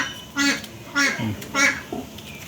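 Ducks at a home quack loudly and nearby in three or four short nasal bursts, with softer babbling calls in between.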